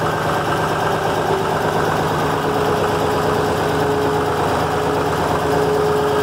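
A tractor engine runs steadily at a low idle-like rumble with constant vibration as the clutch is slowly let out, a continuous mechanical drone with no talking.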